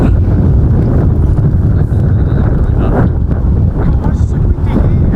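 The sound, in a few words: strong wind at Orwell Country Park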